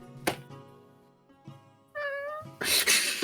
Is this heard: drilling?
no